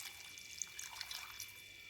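Water is poured into a pan of salted spinach cooking for palakai poriyal, heard as a faint, soft trickle with small splashes, alone and quiet throughout.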